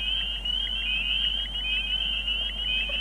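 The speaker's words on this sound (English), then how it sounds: "It's like a beep, beep, beep, pretty loud peeping noise. That's what a good chorus sounds like." A loud chorus of frogs giving beep-like peeping calls, a dense, continuous high-pitched trilling with many overlapping individual peeps over a steady low hum.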